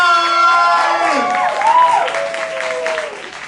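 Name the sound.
crowd cheering and making noise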